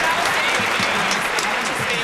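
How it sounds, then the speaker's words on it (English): Loud audience applause and cheering from a crowd at a live radio show battle, dense and continuous throughout, with voices mixed in. "Hit him with a round of applause"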